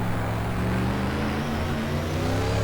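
Simulated Ford Mustang 1998 FIA GT race car engine in the GTR 2 racing game, a loud steady drone with rising harmonics as it revs, continuous and close with no talk over it.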